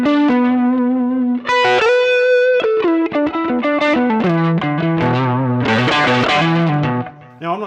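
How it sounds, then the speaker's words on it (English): An electric guitar run through a pedalboard with delay, reverb and distortion plays a sustained note then a flurry of melodic phrases, loud and close, with notes echoing and smearing into one another. "I want some reverb and delay on there"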